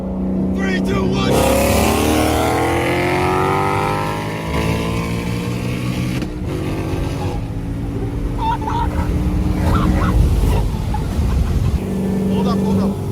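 Cars launching from a standing start in Atlanta traffic, one with an automatic transmission and a missed gear: a close engine roar climbs steeply in pitch, dips and climbs again, with voices over it.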